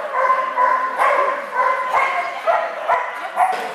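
A dog barks repeatedly at close range, sharp yaps coming in quick bursts with a few whiny, whimpering tones between them.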